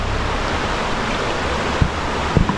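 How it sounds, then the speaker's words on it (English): Rolling river water flows steadily in a broad, constant rush, loud and close, with a couple of faint low thumps near the end. "Rolling river."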